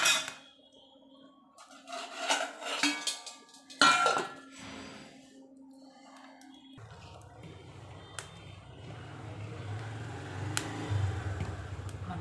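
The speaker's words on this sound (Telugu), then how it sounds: "ఇప్పుడు దీని మీద మూత వేసుకోవాలి." A metal lid clatters and clinks against a pot of fresh coconut chutney on a wood-fired stove, followed by quieter rustling and a low rumbling hum.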